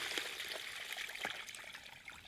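Cold spiced turkey brine pouring steadily into a plastic turkey bin, a continuous close trickling and splashing stream with a few brief surges, no talking.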